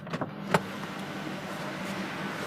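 Engine noise inside the cabin of a 2021 Maruti Ignis Delta AMT with a 1.2-litre, 81 bhp petrol engine: a faint, steady low hum with a couple of soft clicks near the start.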